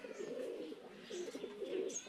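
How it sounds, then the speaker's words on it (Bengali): A pair of adult kajal-eyed pigeons coo in soft, repeated throaty phrases, close by and alone with no talk over them. "একদম অ্যাডাল্ট কবুতর দুইটাই"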